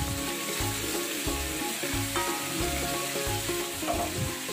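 Sliced chayote and other chop suey vegetables are stirred in a sizzling pan, with repeated rhythmic scraping strokes over a constant frying hiss.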